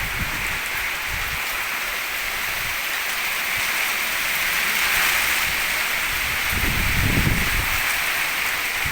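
A steady hiss of rain falls outdoors beside a house in Phu Sang district, Phayao, Thailand, a dense, even wash continuing throughout with a few low thumps and rustles mixed in.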